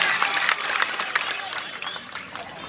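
Audience clapping and cheering at a Hindi political rally speech, a dense wash of applause sustained for a few seconds with crowd noise, fairly close and loud.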